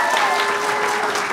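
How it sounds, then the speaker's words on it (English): Dense, steady applause from a large audience at a pitch competition awards event fills the whole moment, loud and continuous with no voices over it. "Let's give one more round of applause for everyone."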